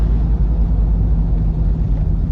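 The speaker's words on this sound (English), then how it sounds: "you guys get a little more of the exhaust tone" Steady low exhaust drone from a 1982 Jeep Wagoneer Limited cruising on the road, a continuous close rumble with even loudness and no voices.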